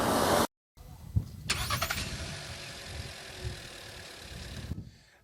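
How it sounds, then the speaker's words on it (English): A petrol car engine cranks and catches after a short silence, then settles into a steady mid-pitched idle with slight revving, close and fairly loud, and cuts off at the end. "Now that is what an internal combustion engine car sounds like."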